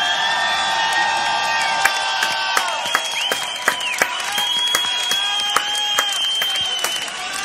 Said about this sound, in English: One more time from Luxembourg, give it up for SLIZZER